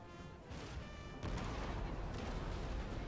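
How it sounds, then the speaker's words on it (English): Cannons fire from fortress walls and from ground positions during a battle in a war strategy video game about Italian unification, with two heavy booming onsets that swell into a sustained, rumbling barrage. "they're getting cannon fire from up here on the walls, and the cannons down here as well are firing into them"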